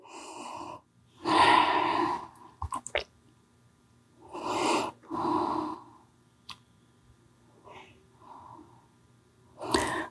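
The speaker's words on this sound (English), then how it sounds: "Let this nourishing breath flow throughout your body, especially into that left hip. 3 more breaths here." During a slow vinyasa yoga flow, deep breaths come in a few separate audible inhales and exhales, spaced several seconds apart with quiet stretches between them.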